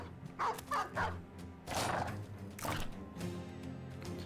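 A war dog in the Battle Brothers video game gives a few short, gruff barks and yips in quick succession over the game's battle ambience, fairly loud and close, with no talk.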